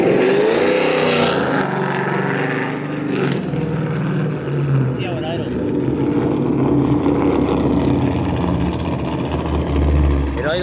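A car engine fitted with a failing Whipple supercharger idles with a steady rumbling drone and some whine, close and continuous, while someone talks over it.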